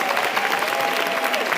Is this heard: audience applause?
yes